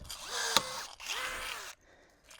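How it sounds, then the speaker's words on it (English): A DeWalt DCF414 cordless rivet gun sets a 1/4 inch rivet with two short, whirring motor runs close by, each rising and falling in pitch, then a near-silent tail. "This is a DeWalt rivet gun"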